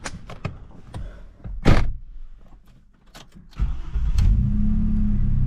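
An Audi S4 starting up: clicks and a door or latch sound, then the starter catches and the engine settles into a steady, fairly loud idle, heard up close with no talk.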